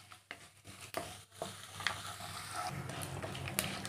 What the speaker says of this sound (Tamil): இதெல்லாம் சேர்த்து நல்லா எண்ணெயில் வறுத்துக்கலாம்.